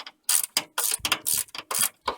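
A ratchet with a 7/16 socket turns out fuel pump bolts on a 1985 Chevy truck, sounding as a close, loud run of sharp rhythmic clicking bursts, about eight in quick succession, with no talk.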